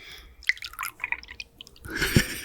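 A drink poured into a glass at a toast, liquid trickling and dripping in short bursts before a fuller splashing pour near the end, close and fairly quiet with no talk.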